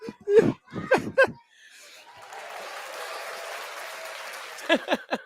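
An artificial crowd cheering effect plays at a youth football game, a broad steady wash of applause and cheers lasting a few seconds between short bursts of nearby laughter and voices.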